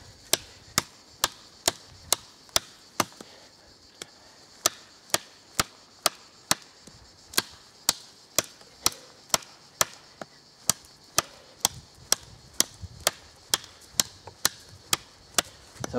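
A Bushlander knife chopping into wood, about thirty sharp, loud, regular strikes in quick succession, each a crisp close thwack, with no talk.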